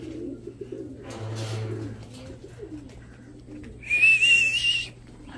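A racing pigeon coos and flutters near the loft at a young-bird derby in Santiago, Isabela, with a faint whistle-like call rising briefly near the end and low background hum.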